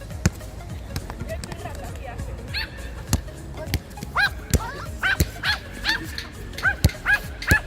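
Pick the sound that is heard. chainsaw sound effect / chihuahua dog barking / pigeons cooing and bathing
chihuahua dog barking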